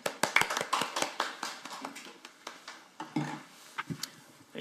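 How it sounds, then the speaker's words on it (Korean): Scattered, fairly light hand clapping from an audience welcoming a speaker at a labour union public-sector forum, with uneven, separate claps and no voices. "힘찬 박수로 맞이하겠습니다."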